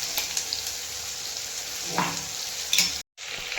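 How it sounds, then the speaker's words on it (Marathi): Masala paste sizzling and frying in butter for butter chicken, a steady close hiss with stirring scrapes throughout and a brief break near the end. "आपण बटरमध्ये सगळं वाटण घालून घेऊ"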